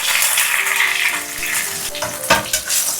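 Scallions and ginger fry in hot oil in a wok: a loud, dense sizzle rises and settles, broken by a utensil clank and a brief stir near the end.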